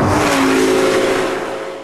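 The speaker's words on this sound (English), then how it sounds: "sometimes it changes gear very violently" A Lamborghini Gallardo Superleggera driving hard under power, its loud engine roar with a rising tone shifting pitch as it changes gear abruptly, continuous and close, fading slightly at the end.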